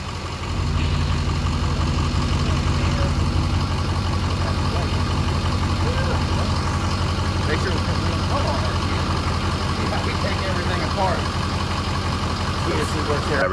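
An old dually pickup truck engine idles steadily just after starting, a loud, continuous close rumble with people talking over it.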